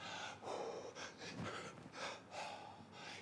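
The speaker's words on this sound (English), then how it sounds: "Hear my breathing?" Heavy rhythmic breathing from a person doing bodyweight crunches, repeated forceful breaths in and out at a steady pace, close and fairly quiet with no talk over it.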